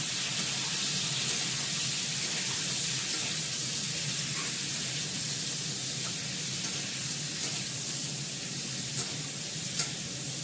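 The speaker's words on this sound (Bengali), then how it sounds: "একটু নাড়াচাড়া করি।" Potatoes frying in a pan while being stirred, a soft continuous sizzle with faint occasional clinks of the utensil, close and even throughout, no talking.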